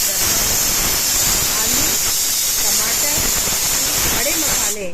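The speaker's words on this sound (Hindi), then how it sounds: "वहाँ कुकर की सीटी की आवाज़ भी आपने सुनी होगी" A loud, steady hiss of escaping steam from a pressure cooker whistle in a kitchen carries on continuously and cuts off abruptly at the end.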